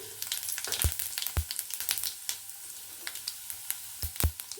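Seeds crackle and pop sharply in hot oil over a steady sizzle, with irregular loud bursts close by.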